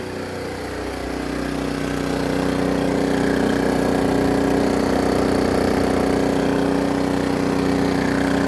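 A portable generator engine hums steadily nearby while charging batteries, its droning tone rising briefly at the start then holding constant and loud.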